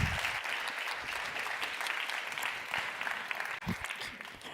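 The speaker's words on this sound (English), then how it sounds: "Please welcome with a very warm applause, Mrs. Sheila Warren." Applause from a conference forum audience welcoming a guest speaker, steady dense clapping that fills the room for several seconds before tapering slightly.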